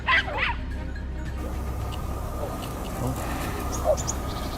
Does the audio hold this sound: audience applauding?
no